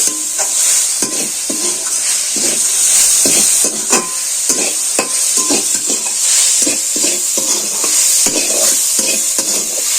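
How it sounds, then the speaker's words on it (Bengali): Sago pearls stirred and fried in a wok give a steady hiss of sizzling oil, with repeated scraping strokes of a spatula against the pan in an uneven rhythm, close and fairly loud, with no talking. "এবার আমি কড়াতে দিয়ে দেবো আবার এটাকে আমি নেড়ে চেড়ে ভেজে নেব"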